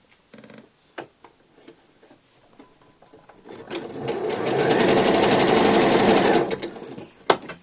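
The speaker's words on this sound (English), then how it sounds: "we are going to go over with the same 3-step zigzag stitch" A sewing machine runs a 3-step zigzag stitch on elastic in a steady, fast mechanical chatter lasting a few seconds, preceded by small clicks and handling sounds and followed by a sharp click.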